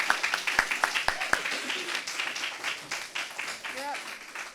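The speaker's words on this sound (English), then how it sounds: "A round of applause for Fairfield Productions," An audience at an arts and culture award celebration claps, starting with a few sharp, separate claps that swell into a dense round of applause, with some voices mixed in.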